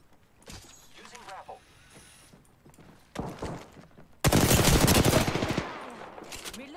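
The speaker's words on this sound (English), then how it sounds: "The enemies are shooting at me." Enemies in a video game fire in scattered shots, then a close, loud burst of sustained automatic gunfire rises and keeps going.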